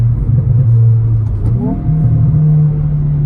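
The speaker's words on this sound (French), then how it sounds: "Et puis le moteur, il monte réellement dans ses tours" Hyundai i20N engine revving hard through its range, a loud, steady mechanical drone that dips briefly and then climbs back up with rising pitch, heard close from inside the car.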